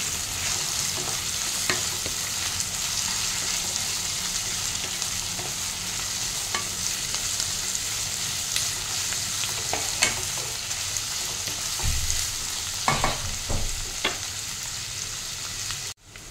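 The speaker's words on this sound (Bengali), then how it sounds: "এবার এটা ভালো করে কিছুক্ষণ ফ্রাই করবো।" Potatoes frying with garlic and onion in a pan give a steady, close sizzle throughout, broken by occasional scraping stirs and a few sharper knocks near the end, with no talking.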